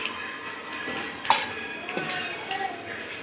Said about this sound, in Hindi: 3-4 चम्मच घी डाल दिए, छोटा चम्मच है